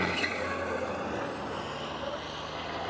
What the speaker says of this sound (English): You can hear the tyres screaming.